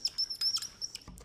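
A bird chirps in a quick series of thin, high tweets, several short calls spaced irregularly against a quiet background, fairly close and clear.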